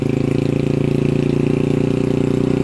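A motor vehicle's engine idling steadily right after starting, on a rainy, flooded street, with a loud, even mid-range rumble and fast regular pulsing throughout.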